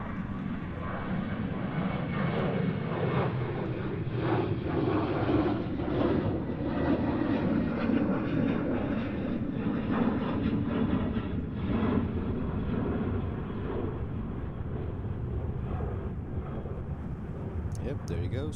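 A Boeing 737 takes off at Schiphol Airport in windy conditions, its engines producing a steady, broad roar that holds for the whole stretch, with faint talk in the background.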